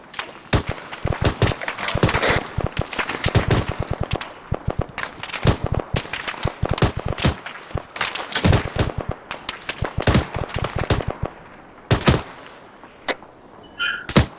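Sustained irregular gunfire in the military video game ArmA 3 during a training session, many sharp shots in scattered single rounds and quick bursts, some near and loud, others fainter, continuing throughout.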